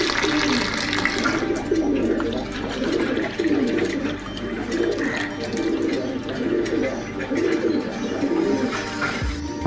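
Pigeons coo in a steady repeating rhythm, close and fairly loud, over a continuous wash of running water.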